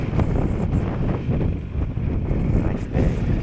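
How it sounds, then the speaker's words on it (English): Wind buffets the microphone during a morning country commute on a Vespa GTS 300 Super Sport scooter at about 55 degrees, a steady rough low roar with gusty swells, close and continuous throughout. "Got a little bit of wind."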